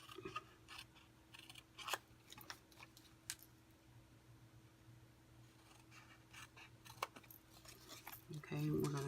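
Scissors cut along the score lines of a paper box template, with quiet scattered snips and rustling paper at close range, soft and intermittent against faint background hum.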